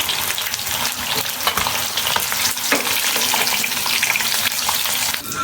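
Lightly fried eggs are lifted one by one out of hot oil for an egg korma, with loud continuous sizzling and crackling and occasional utensil scrapes throughout.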